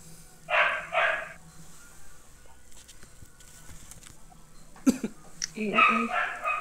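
A dog barks twice in quick succession, fairly close, then a pause with faint background noise before another burst of barking near the end.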